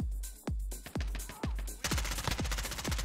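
Heavy single shots in a battlefield shooter ring out one by one, then break into a quicker string of close, booming rounds.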